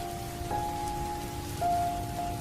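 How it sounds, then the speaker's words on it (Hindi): Heavy rain at night by a roadside tea stall, a dense steady hiss of drops on surfaces, constant throughout, with a faint tonal hum beneath and no talking. "पर तभी फिर से तेज बारिश शुरू हो गई।"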